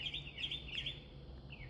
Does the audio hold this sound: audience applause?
no